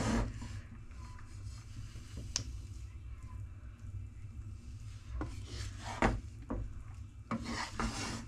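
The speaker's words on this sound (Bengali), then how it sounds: "একটা উডেন স্পুন নিয়ে আস্তে আস্তে সবগুলো রাইসটাকে মিক্স করে নেব" A wooden spoon slowly stirs cooked rice in a pot while making chicken dum biryani, giving soft scraping and rubbing sounds with a few sharper knocks against the pot, close up and alone.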